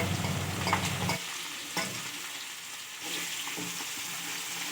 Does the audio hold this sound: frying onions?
yes